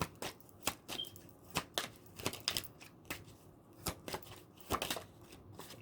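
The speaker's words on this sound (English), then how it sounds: "Both decks, when I was shuffling," Tarot cards being shuffled by hand: a steady series of sharp papery riffles and snaps, close and fairly quiet, with no talking.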